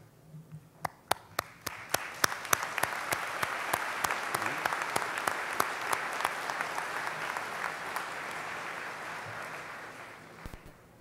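An audience at a Ferris State University commencement ceremony applauds. It starts with scattered, distinct claps, builds into steady, dense applause across a large hall, then fades out near the end.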